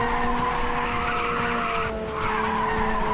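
Tires skid and squeal continuously in the PSP racing game Ridge Racer, a sustained high-pitched screech over steady engine drone, loud and close for the whole stretch.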